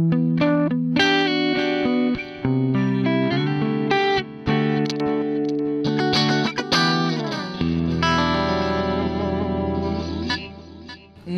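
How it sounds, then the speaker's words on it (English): Electric guitar through a plain delay model on a Zoom G3XN multi-effects processor, with mix around 40 and tail on: a run of plucked notes and chords with echoing repeats, ending on a sustained ringing chord, clear and alone. "So I am using a plain delay model here"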